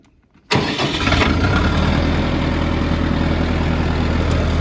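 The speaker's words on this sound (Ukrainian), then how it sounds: "зараз заведу даний тракторець, щоб ви почули, як він працює" An ENEY TY404 mini tractor engine starts after a brief moment of silence, then runs at a steady, loud idle close by for the rest of the clip, with no talking.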